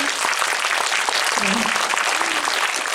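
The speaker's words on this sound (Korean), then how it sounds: "주말에 귀한 시간 내주신 감독님과 편집장님께 다시 한번 박수 부탁드리고요" A cinema audience applauds the director and editor after a Saturday screening of The Spy Gone North at the KOFA cinematheque, steady dense clapping throughout with a brief voice briefly heard beneath it.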